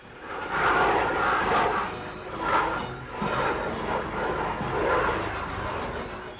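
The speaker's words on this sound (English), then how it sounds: "Here's the twin-jet medium bomber, the Canberra, particularly imposing by its beauty of line and compelling takeoff." A Canberra twin-jet medium bomber taking off gives a loud, continuous roar that swells and dips slightly in waves, with no voices over it.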